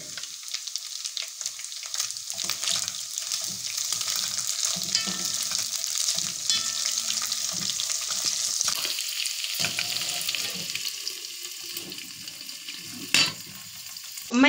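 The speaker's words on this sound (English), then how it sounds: "I'm going to add my onions. And give my onions time to cook too." Onions sizzle steadily in a hot pan for an omena wet fry, with frequent close stirring scrapes over the hiss that eases toward the end, ending in a couple of sharp clatters.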